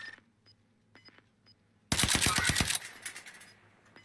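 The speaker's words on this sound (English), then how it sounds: "I'm getting shot at from behind" Video game gunfire: a short, loud burst of rapid automatic shots about a second long after quiet, faint clicks, followed by fading noise.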